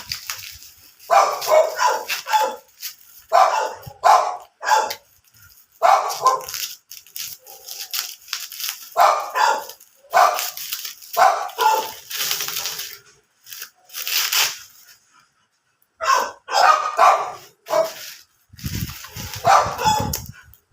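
Dogs bark repeatedly in loud, close bursts separated by short pauses, with no talking.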